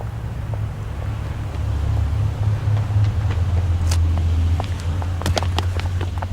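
A small car's engine hums steadily from inside, with a low drone rising slightly and some wind buffeting and light rattles.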